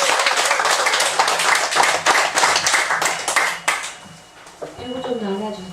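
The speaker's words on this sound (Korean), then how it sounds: "헌신을 다하여 늙어게 해주신 교수님께 뜨거운 박수 부탁드리겠습니다." An audience in a lecture hall breaks into dense, loud applause for a professor after a Buddhist lecture on the Lotus Sutra, the clapping fading near the end as a voice begins speaking.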